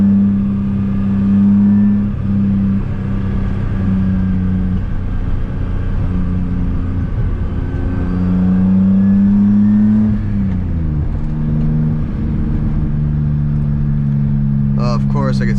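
A BMW E30 fitted with an M50 engine accelerates from inside the cabin. Its engine note climbs steadily, dips at a gear change, then rises again as a loud, continuous drone under road rumble.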